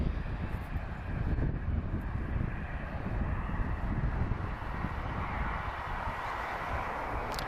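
An Airbus A320-232 jet with V2500 engines at Lisbon Airport gives a broad, steady roar, moderately distant, mixed with wind noise on the microphone and no speech.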